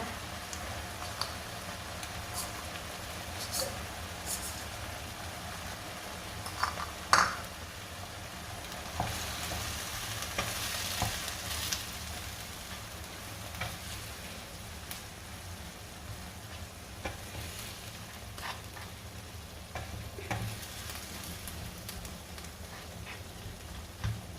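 Crushed tomato and sugar fry in a pan for a Thai-style beef shakshuka, giving a steady low sizzle with occasional soft stirring scrapes throughout, fairly quiet and free of talk.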